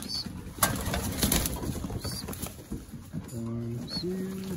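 Young pigeons, second-round birds of the year, being let into a flying loft: soft cooing and brief wing flaps close by, with a few short harmonic calls near the end.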